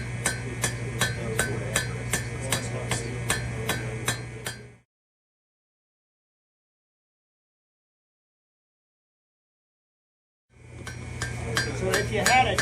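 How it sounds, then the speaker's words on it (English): Hot metal is hammered on an anvil while forging a tenon for a colonial candleholder, a fast, even series of ringing strikes, then a long silence before the hammering resumes. "we're going to hammer that out into a tendon"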